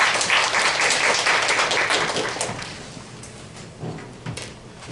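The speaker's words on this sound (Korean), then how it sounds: "큰 박수로 맞이 부탁드리겠습니다." Audience applause welcoming a tax accountant to the stage at a Korean business seminar: dense, steady clapping from a sizeable crowd that holds for several seconds, then thins and fades toward the end.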